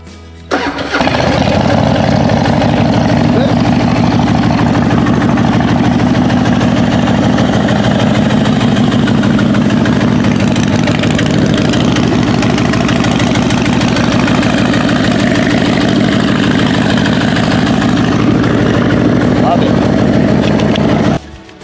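A Harley motorcycle engine starts and settles into a loud, steady low idle that rumbles close by for about twenty seconds before cutting off.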